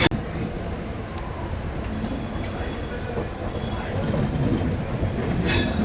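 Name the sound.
Jan Shatabdi Express train slowly entering Howrah station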